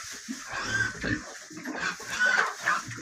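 Chickens in a barn give soft, scattered clucks and squawks at a moderate distance, with brief rustling between calls and no talk.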